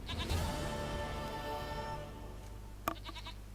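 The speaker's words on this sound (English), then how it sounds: "Hier is een stomme geit." A goat in The Witcher 3 bleats in a long, wavering cry that fills most of the moment, followed by a sharp tap and a few softer bleating pulses near the end.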